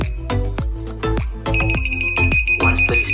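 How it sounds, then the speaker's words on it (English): Two steady high electronic beeps from a single-channel receiver being cleared sound together over a rhythmic backdrop of repeated low thumping hits, loud and close. "Once the receiver gives a long beep"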